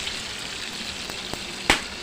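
Soft, steady sizzling of chicken frying in a pan, with a few faint pops and one sharper crackle near the end.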